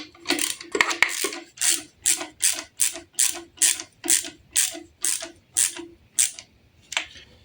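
A torque wrench tightens bolts on a Fiat MultiJet JTD diesel engine during a rebuild, giving a crisp, close ratchet clicking in about a dozen evenly spaced bursts, with no talk over it.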